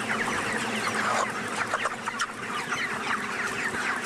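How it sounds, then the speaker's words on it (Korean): Dense clucking from a crowded shed of month-old chickens at a poultry farm in Anseong, Gyeonggi Province: many overlapping clucks and chirps form a continuous busy din, with no voices. "경기도 안성시 보계면에 위치한 닭 사육장을 다시 찾았다."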